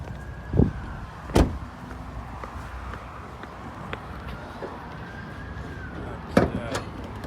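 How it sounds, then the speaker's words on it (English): Getting out of a 2010 Mitsubishi ASX to open the bonnet: a few sharp thumps of the door and body, one near the start and a pair near the end, over a steady low background hum. "I'm just going to go open up the front bonnet on the vehicle."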